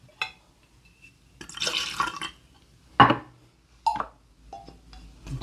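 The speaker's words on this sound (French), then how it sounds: "On va suivre donc avec la liqueur de coin. Et on va y mettre 2 centilitres." Quince liqueur is poured in a thin trickle into a cocktail glass, giving short liquid splashes and drips with small clinks between them. The sound is close and quiet with no talk over it.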